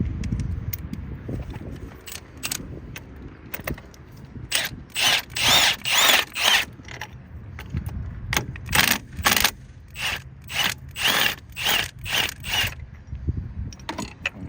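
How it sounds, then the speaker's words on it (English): A ratchet wrench loosens the 18 mm top bolts of a worn transmission mount on an MK5/MK6 car, clicking in fast repeated bursts of ratcheting strokes, close and loud, with short pauses between runs. "So now we can start removing our bolts."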